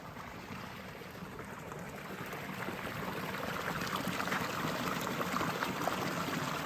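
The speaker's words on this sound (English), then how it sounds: "little channels where the natural spring waters just moves across the streets and the roads and the pathways" Glacial spring water from high mountain springs runs through small open channels along village streets and pathways in Shigar, a continuous, close rushing and trickling flow that stays steady and slowly swells, with no voices.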